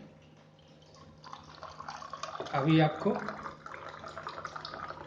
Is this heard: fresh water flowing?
yes